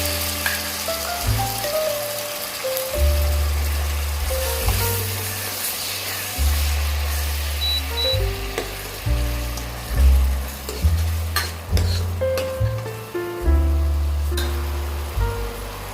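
Tomato, onion, coconut and garlic puree hits a hot pan with bay leaves for mutton rassa, giving a steady sizzle and crackle under loud, rhythmic background music throughout.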